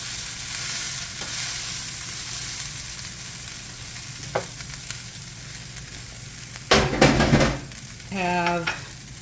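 Rice frying in a pan for crispy pork fried rice, a steady sizzle through the whole stretch with a few sharp scrapes and clatters of stirring near the end, no one talking.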